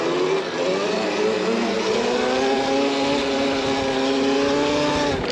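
Rawrr Mantis electric bike accelerating hard into a long wheelie, a steady rising electric motor whine with layered harmonic tones climbing in pitch, loud and close throughout without speech.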